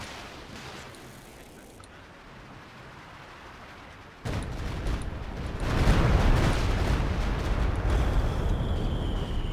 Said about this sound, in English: So Stuka Barrage goes off there on the mortar.